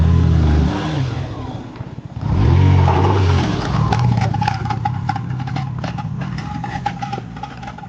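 A motorbike engine revs hard on a rough mountain track while its tyre is stuck in a pothole. The roar is loud and close, falls back and then surges again, with rattling clatter over the top.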